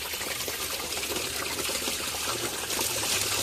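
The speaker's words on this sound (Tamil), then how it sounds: "ஃபர்ஸ்ட் தண்ணியை ஊற்றுவோம்." Water poured into a small aquarium tank set inside a fridge, a steady, close splashing and trickling stream that continues without pause and with no talking.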